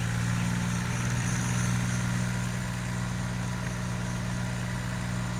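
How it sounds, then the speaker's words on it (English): A vintage tractor engine idles steadily in the Farming Simulator 19 game, a constant low droning hum with a mechanical hiss above it, moderately loud and unbroken throughout with no talking. "we're going to use this tractor as much as we can"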